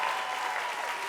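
An audience applauds school superintendents at a mayoral education announcement, dense steady clapping from a crowd that sounds close and loud throughout the short burst.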